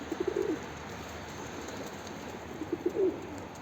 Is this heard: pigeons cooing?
yes